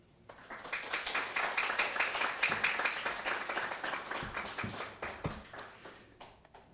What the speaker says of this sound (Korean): 나오실 때에 뜨거운 박수로 환영하겠습니다